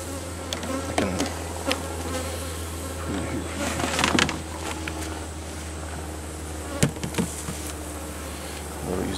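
Honey bees buzz around an open hive, a dense continuous drone close by with knocks and handling clicks over it, while people talk faintly at times.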